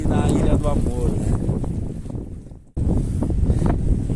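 Strong wind at a beach at Barra de Jangada in Pernambuco roars into the microphone in loud, continuous buffeting, with a brief drop near the middle, while someone speaks over it.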